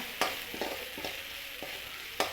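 Tempering in hot oil with mustard seeds, fenugreek, curry leaves, dried chillies and shallots for a mango yogurt curry: a soft continuous sizzle punctuated by several sharp seed pops and stirring clicks, close up, no voices.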